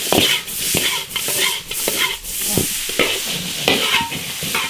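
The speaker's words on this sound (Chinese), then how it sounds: "下萝卜炒香。" Radish being stir-fried in an iron wok after Sichuan pepper, ginger, garlic and pickled chili, with a steady loud sizzle broken by repeated scraping strokes of the spatula, close up and with no talking.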